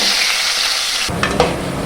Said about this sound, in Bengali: আলুগুলোকেও আমি এরকম করে লাল লাল করে ভেজে তুলে নেব।